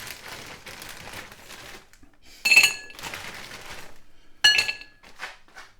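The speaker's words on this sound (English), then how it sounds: "let's get a few chips in the air fryer" Frozen chips tipped into an air fryer basket clatter in two sharp, clinking bursts with rustling between them, close and fairly loud, with no one speaking.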